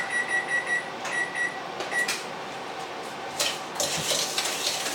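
Sugar, brown sugar and butter mixed by hand in a bowl, soft scraping stirs and light bowl knocks in uneven strokes, close and fairly quiet, with no talk.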